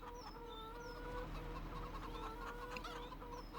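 Many chickens in a farming video game, about 360, cluck and squawk together in a steady, busy chorus, close by, with a low hum underneath and no one talking.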